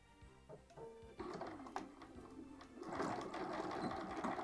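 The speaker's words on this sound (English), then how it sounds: "we're going to just line up our seam on our sewing machine. We're going to stitch this side seam." A sewing machine stitches a side seam on a small fabric Christmas mini, starting in short bursts, then running in a steady, quick mechanical whir, close and fairly quiet.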